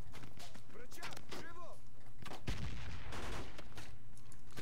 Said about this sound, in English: Getting shot at through the window.